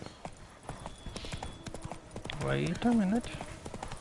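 Horse hooves clip-clopping as the mount gallops in the video game The Witcher 3, a steady rhythmic beat under someone talking, with a brief neigh near the end.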